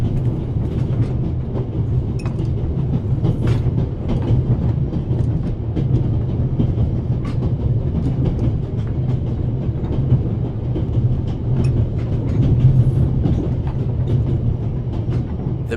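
Steady rumble and rhythmic clatter of a moving train in the video game The Raven Remastered, continuous and fairly loud throughout with faint clicks on top and no talking.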